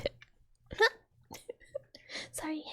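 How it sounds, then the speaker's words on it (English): A single loud hiccup, close and sharp, occurs in the middle of a quiet, close-miked ASMR-style setting. Soft whispery mouth sounds and faint clicks surround it. "Sorry, hiccup. That was loud,"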